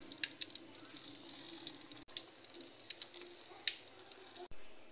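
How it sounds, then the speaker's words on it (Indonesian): Hot oil sizzles and crackles as chicken pieces for a homemade butter-sauce dish go in one at a time, a fairly quiet, continuous spattering with a few sharper pops and no talk. "Dan goreng satu persatu."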